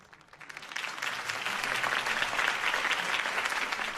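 Crowd applause greeting a mayoral campaign speech in a Batman video game, swelling up from quiet over the first second into full, continuous clapping that holds steady, with no talk over it.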